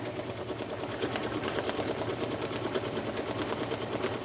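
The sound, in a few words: embroidery machine stitching a cap at 650 stitches a minute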